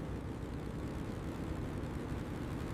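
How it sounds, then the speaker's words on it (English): Propellers of a B-17 bomber in flight produce a dense, even rumble of engine and airflow noise, steady and fairly soft, with no voices over it. "The props are spinning, the plane is flying"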